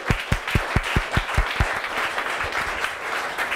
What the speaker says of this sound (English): Round of applause for the guys.